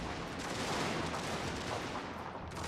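Distant, continuous cannon and musket fire from a strategy game battle between Prussian and Russian armies, a dense rumbling crackle of volleys heard faintly without any talk.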